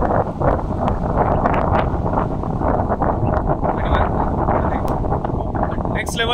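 Steady wind roars and buffets outdoors at a scenic spot near Pune on a solo motorbike ride, a loud, continuous rush that fills the whole stretch without letup.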